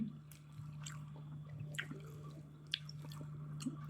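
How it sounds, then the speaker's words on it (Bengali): Faint, wet squishing and chewing as someone eats rice with fried fish by hand, with soft irregular mouth sounds over a steady low hum. "মাছ ভাজি দিয়ে খাওয়া শুরু করতেছি"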